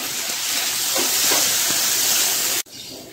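Chopped tomato drops into a hot pan of golden-browned soya chunks and sizzles loudly in a dense hiss that cuts off abruptly near the end, leaving a quieter sputter.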